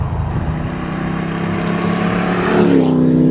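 A Ford GT40 drives with a loud, close engine roar that holds steady and then swells in pitch as it revs up near the end.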